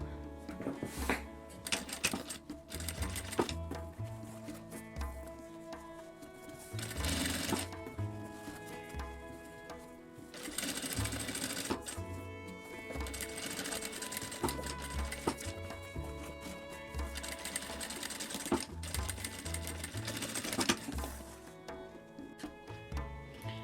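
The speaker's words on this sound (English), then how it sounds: "you're going to backstitch and you're going to sew all the way around the armhole curve" Sewing machine stitching around the armhole curve of a dress facing, rapid mechanical whirring in several bursts separated by short pauses, close and clear.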